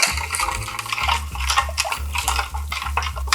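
A brown sugar and garlic sauce is stirred briskly in a bowl with a metal utensil, making continuous close clinking and scraping in a quick repeating rhythm.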